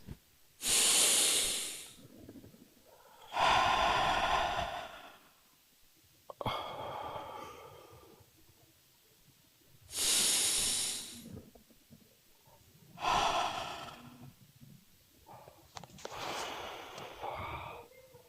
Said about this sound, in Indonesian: Coba tarik napas lagi.